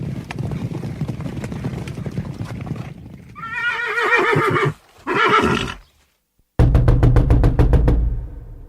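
A horse ridden hard by a messenger through a storm whinnies loudly in two harmonic bursts after steady clip-clopping hooves, then the hoofbeats return as a close, rapid rhythmic knocking.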